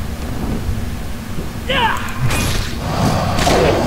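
Rain and rolling thunder from the game World of Warcraft: a steady wash of rain with a couple of deep, booming thunder rumbles swelling over it.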